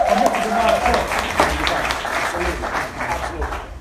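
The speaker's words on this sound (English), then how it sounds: "can you please give another huge round of applause" Audience applause at a live event in Chicago welcomes a speaker, a broad steady wash of clapping that holds throughout, with a brief voice near the start.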